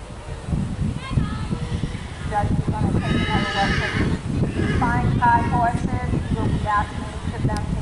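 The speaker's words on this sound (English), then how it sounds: "Horse is still talking." A horse neighs loudly and repeatedly, close by, with hoof clops and people talking in the background.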